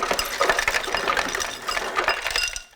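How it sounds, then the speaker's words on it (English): Household ice maker dispensing ice, a dense continuous clatter of cubes tumbling and clinking for nearly three seconds before stopping abruptly, close and fairly loud with no talking. "That is the sound of an ice maker,"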